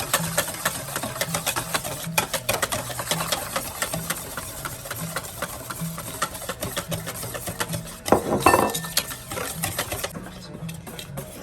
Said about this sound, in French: Là, on rajoute la semoule tout entière. Bien mélanger le tout.